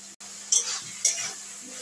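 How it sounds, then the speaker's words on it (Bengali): Flowers are stirred in a cooking pan, with two short scraping strokes of a utensil over a faint steady sizzle, close and without talk. "আমি কিন্তু এখানে এবার ফুলগুলো একটু নেড়ে নিলাম।"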